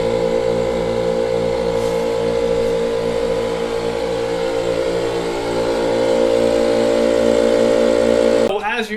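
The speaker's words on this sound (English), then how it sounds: "you can hear the air now coming through the air tank and going out into the tires" Compressed air from an engine-driven source rushes through a MORRFlate tank and out into all four tires, a loud, steady hiss over a pulsing motor drone that continues unbroken until a brief clatter at the end.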